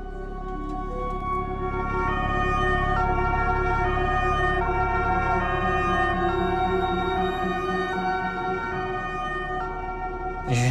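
An ambulance siren wails steadily for about ten seconds, loud and close with a rising and falling tone, with no talking over it.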